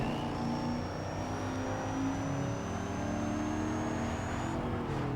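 Ford Mustang GT and Mercedes CLK 500 racing in Need for Speed: Most Wanted (2005, PS2): a steady, loud engine drone with a rising high whine as the car accelerates, running alone throughout.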